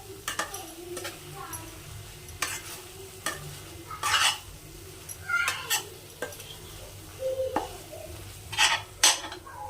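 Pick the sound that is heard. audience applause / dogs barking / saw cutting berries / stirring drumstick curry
stirring drumstick curry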